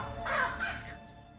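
A dog-faced baboon in Africa gives alarm barks at a female leopard: two loud, harsh barks in quick succession, the second slightly softer, then the sound fades out.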